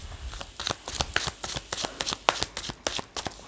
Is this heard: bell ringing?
no